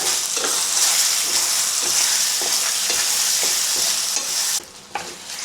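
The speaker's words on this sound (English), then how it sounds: "Heat some oil in the pan and then add the chicken. To stir fry the chicken," Chicken sizzles steadily in hot oil while a utensil scrapes and stirs the pan in a regular rhythm; the hiss drops briefly near the end.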